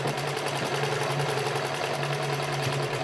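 A sewing machine stitches a salwar with a steady, continuous whirring hum that stays even and close throughout, with no voices over it.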